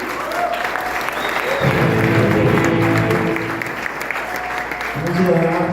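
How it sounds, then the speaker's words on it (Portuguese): A Baptist church congregation in Brazil applauds for a member's birthday, producing a sustained wash of many clapping hands while voices speak and call out over it throughout. "Vamos aplaudir?"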